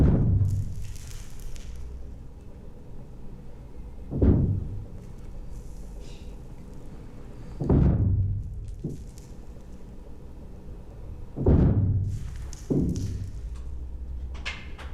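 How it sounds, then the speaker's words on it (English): Explosive charges detonating one after another inside a Bolivian mine, heard as about five muffled, distant booms that each swell and fade, with gaps between them and a low rumble underneath. "They count the explosions"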